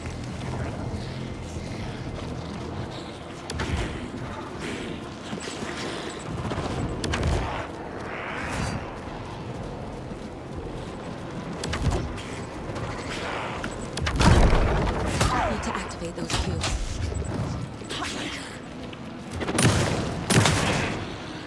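Gunfire in the video game Alan Wake 2: scattered shots and heavy booms burst out over a rumbling, mechanical game ambience, with louder volleys near the middle and the end.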